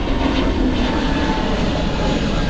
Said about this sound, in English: we watch the EasyJet take off